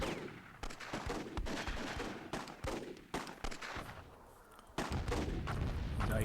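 Grenades explode in Myth II Soulblighter, a dense string of sharp blasts and crackling bursts in quick succession, growing heavier toward the end.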